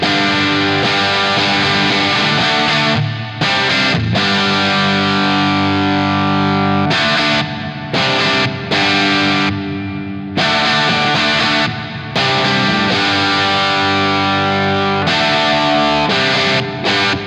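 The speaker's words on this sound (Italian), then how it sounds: "il plate, un modo molto molto vecchio, si usava negli anni 60 per in realtà già simulare il riverbero" Loud distorted rock guitar played through a new Universal Audio pedal set to a plate reverb, chords ringing into a lingering wash of reverb, with brief pauses between phrases and no talking.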